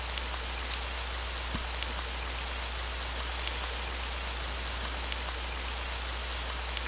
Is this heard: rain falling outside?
yes